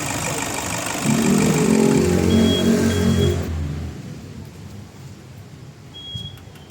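A Toyota Innova engine idling with a steady hum and rumble after overheating from a radiator problem, then it cuts off abruptly, leaving quieter background noise.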